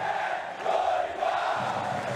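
Palmeiras football fans chanting in support of coach Dorival outside a training ground, a steady distant crowd chant with rising and falling voices, sustained throughout and heard from afar, no nearby talk.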